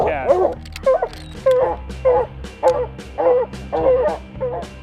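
Pack of hunting dogs at a treed mountain lion during a Utah hunt, barking and whimpering in a steady run of loud, close yips and bow-wows, about one burst every half second, with a low rumble beneath.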